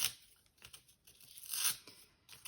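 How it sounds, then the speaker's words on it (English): Paper being torn off corrugated card for a journal topper, close-up ripping and tearing in several short uneven bursts with light crinkling between, no voices. "I'm just taking a bit more of this paper off where it's visible"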